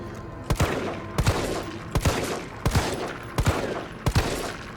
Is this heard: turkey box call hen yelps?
no